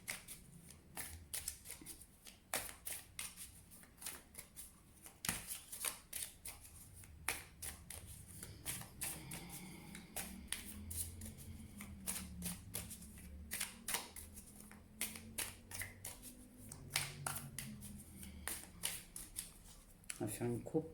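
Tarot cards shuffled and cut by hand, with repeated crisp flicks and riffles scattered through the passage, close but fairly quiet, while someone talks over them.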